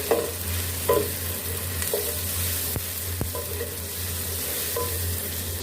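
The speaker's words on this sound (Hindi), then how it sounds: "और इसको भी हमने हल्का सा फ्राई कर लेना है।" Continuous sizzle of garlic and ginger frying in a pan with onions, with a few soft stirring scrapes and two sharp taps, no voices.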